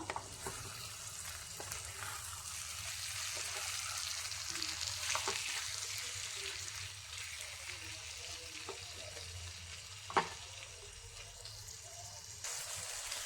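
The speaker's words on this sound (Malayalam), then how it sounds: "ചിക്കൻ ഫ്രൈ ആയി വരുന്നുണ്ട്. ഇടയ്ക്കിടയ്ക്ക് ഇതേപോലെ ഇളക്കി കൊടുക്കണം." Chicken frying in a pan while being stirred now and then, a soft steady sizzle with occasional scraping clicks and a sharper clack partway through, fairly quiet and close.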